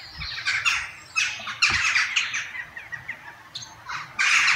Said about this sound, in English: it is often dominated by the loud bird sounds that come from the tall towers and the trees surrounding the castle.